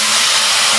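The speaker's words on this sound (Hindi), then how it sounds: "दाल के हम अंदर ऐड कर देंगे ये तड़का" Hot tadka of cumin, red chillies and curry leaves poured into dal for a moong and masoor egg dal, giving a loud, steady sizzling hiss that fills the moment without pause.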